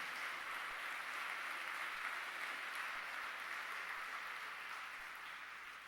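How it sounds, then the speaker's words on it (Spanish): A church congregation applauds the Lord, a soft, distant, continuous patter of many hands clapping that holds evenly and fades slightly near the end. "Denle un fuerte aplauso a ese Señor."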